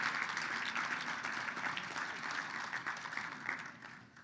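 A gala audience gives a round of applause for the evening's honorees, with steady, moderately distant clapping from many hands that fades slightly toward the end.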